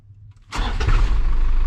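An abandoned Isuzu NPR turbo diesel truck cranks and fires back up, a brief quiet moment giving way to a sudden loud catch and a rough, rumbling settle into a close, steady idle.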